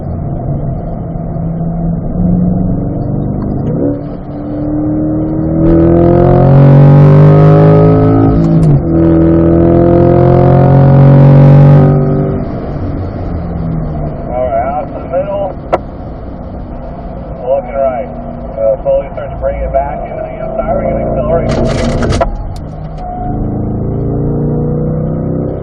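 A C8 Corvette engine on throttle at a racetrack, its note climbing and falling loudly through gear changes with a brief burst of wind noise near the end, heard under a voice.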